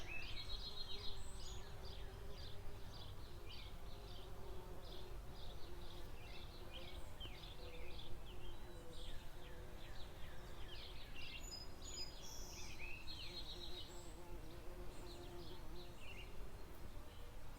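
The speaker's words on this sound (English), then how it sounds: "I could stay and watch these bees all day." A steady low hum of bees buzzing around lavender flowers, with faint bird chirps scattered through the background.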